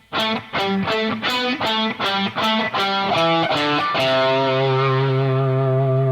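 Distorted electric guitar lick, played with palm muting: about eight chunky, choppy muted hits in a steady rhythm, then an open chord ringing out with a long sustain, loud and close with no talking.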